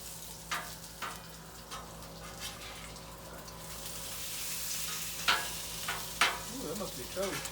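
Bacon fries in a pan with a quiet, steady hiss and crackle, with a few sharp scrapes and clinks; a voice is faintly heard near the end.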